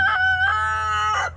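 A rooster in a backyard flock of hens, including Barnevelders, crows once, a loud, close, stretched cock-a-doodle-doo over a low steady hum, with no talking.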